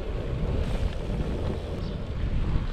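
Steady low wind rumble buffets the microphone on an overcast, windy day of ultra-distance cycling in western France, a continuous roar with no talk.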